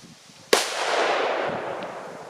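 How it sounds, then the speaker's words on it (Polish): A single loud firecracker (FP3 Big Jorge, 1.8 g) bang goes off close by, followed by a long, fading rush of hissing noise. "Fajnie, to głośna petardka."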